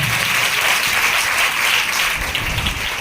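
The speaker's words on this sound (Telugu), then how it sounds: "చప్పట్లు కొట్టండి గట్టిగా, గట్టిగా కొట్టాలి" A church congregation claps loudly and steadily at an anniversary service, the dense, continuous applause filling the hall throughout, with no one speaking over it.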